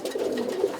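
A roller pigeon coos softly in a nest bowl during pairing, a steady low throaty murmur with a slight swell near the end, heard close and alone.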